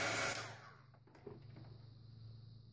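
A handheld dryer drying water-soluble pen ink on an art journal page, loud whooshing blast at the start that quickly drops to a quieter steady hum with a low motor drone.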